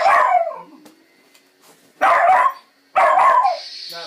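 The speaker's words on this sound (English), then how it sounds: "I need to scare the dog off with the lightsaber here." A dog barks in three loud, close bursts, with short pauses and a quieter gap between the first and second bark.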